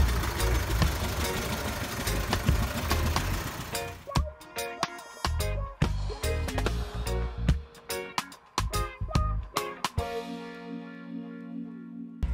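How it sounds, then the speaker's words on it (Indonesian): An old Toyota Land Cruiser FJ40/BJ40 engine idles roughly nearby with a steady rumble and irregular knocking clatters. A louder noisy stretch comes first. "akhirnya menyalalah mesin dari mobil ini"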